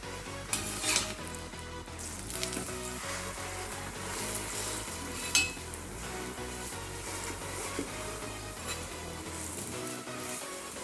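A sweet sugar-filled paratha fries in ghee on a hot griddle, giving a steady, soft sizzle across the whole stretch with a few light clinks of a utensil against the pan.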